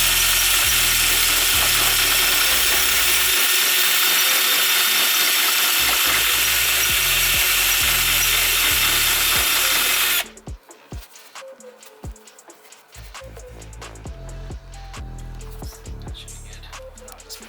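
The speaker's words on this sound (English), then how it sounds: "we're gonna have to drill these out" A power drill enlarges screw openings in carbon fiber fenders on a Hyundai Genesis Coupe, running loud and continuous with a steady high whine for about ten seconds, then giving way to clicks and knocks.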